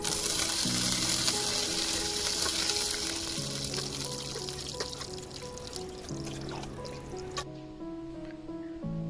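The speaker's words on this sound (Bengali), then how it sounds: "পাশের কড়াইয়ে তেল গরম হয়ে গেলে সেখানেও গোটা মশলাগুলো দিয়ে দেওয়া হচ্ছে" Whole spices sizzling in hot oil in a kadai on an induction cooker, a steady crackling hiss that eases off toward the end while background music plays.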